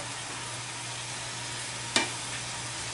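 Onions browning in a pan for a chicken and rice dinner make a soft, steady sizzle, with one brief clatter partway through.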